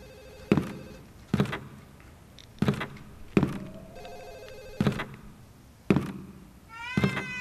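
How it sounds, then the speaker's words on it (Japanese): A cat meows in the horror video game Ju-On, several sharp, evenly spaced meows close by, with a ringing telephone sounding intermittently in the background. "あー、なんか猫の鳴き声が。"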